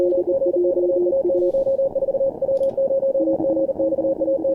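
Morse code tones from the Morse Runner contest simulator, loud steady beeping dits and dahs in two overlapping pitched signals keying rapidly, close and clear with a faint hiss beneath.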